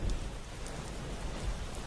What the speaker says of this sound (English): That would be rain.